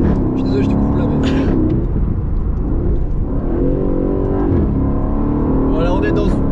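Aston Martin with a 510-horsepower engine, a continuous loud engine drone and revving inside the car, with people talking over it throughout.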